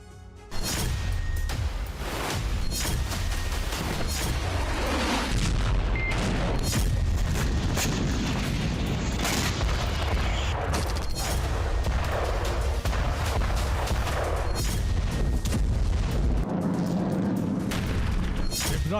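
Dense, loud barrage of booming explosions and artillery fire in war footage, continuous blasts and rumbling impacts filling the whole stretch with little pause.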